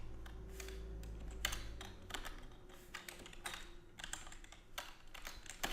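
Golang code being typed on a computer keyboard: quick irregular clusters of clicking keystrokes with short pauses between them, close and fairly quiet over a low steady hum.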